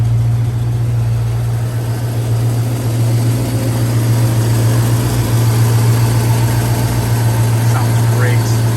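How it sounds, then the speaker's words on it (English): A 1965 Ford Mustang C Code V8 idles steadily with a loud, even low-pitched rumble and throb, heard up close with no talking over it. "Let's listen to the motor."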